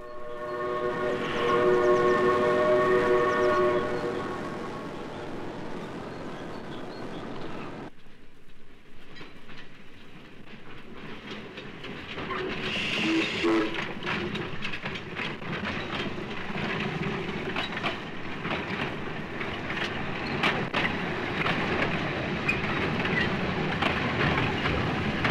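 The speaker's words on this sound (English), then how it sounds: "Let's go ahead and wait for the train, hearing first that whistle across the valley." A steam locomotive whistle sounds across a valley on the narrow-gauge Festiniog railway, holding a long multi-tone blast, then fading into quiet before the train approaches with rumbling wheels and rhythmic clicking growing louder.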